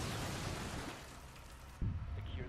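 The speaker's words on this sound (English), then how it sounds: "I'm being hit by so many explosions." Explosions in the video game Rainbow Six Siege, heard as faint, rumbling blasts: a sustained noisy roar that fades, then one sharp, low-heavy boom near the end.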